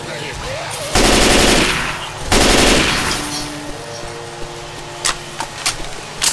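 Automatic gunfire in a video game tears out in two long, loud bursts, then trails off into a few sharp scattered shots, with voices faintly in the mix.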